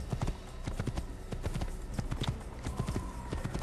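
Horse hooves galloping in the Assassin's Creed video game, rapid repeated thudding clip-clops close up and moderately loud, with a faint snort or whinny mixed in.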